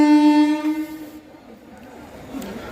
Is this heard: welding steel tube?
no